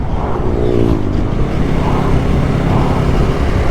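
A BSA Bantam 350 motorcycle accelerates hard to overtake, its engine note loud and close as it climbs in pitch over steady road and wind roar, with no talking.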